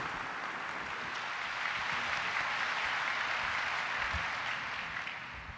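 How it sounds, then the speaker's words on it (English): Audience at the State of the Port 2015 event gives a round of applause welcoming the Harbor Commission board president, a thick, steady roar of many hands clapping at once, holding evenly before easing off at the end. "So if you'll also join me in a big round of applause as we welcome the board president of our Harbor Commission, Doug Drummond."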